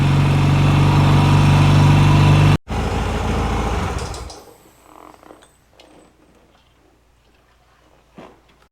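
A 1978 Yamaha XS650 motorcycle engine runs loud and close for about four seconds after winter storage, with a rough, vibrating note, then shuts down and leaves faint clicks and ticks in near silence.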